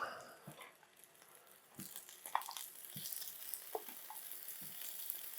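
Braised pork belly pieces laid into hot oil in a pan, giving a steady soft sizzle with occasional crackles and pops, close and fairly quiet throughout.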